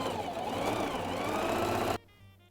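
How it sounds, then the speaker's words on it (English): A sewing machine runs a steady, close stitching drone over a trial piece of fabric for about two seconds, then stops abruptly, leaving near silence. "my sewing machine. So I'm gonna do a trial run on my handy trial run piece of fabric"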